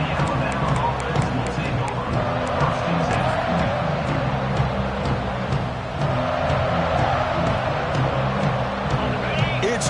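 Stadium crowd roaring at a college football game between Alabama and Kansas, a loud, steady wall of cheering and babble that runs the whole time with no break.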